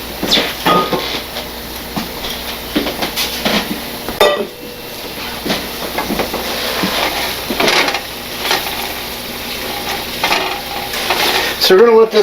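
Chopped garlic sizzles in a pan for a black pepper steak stir fry while a utensil scrapes and stirs it, producing loud, close, continuous frying with repeated clatter against the metal.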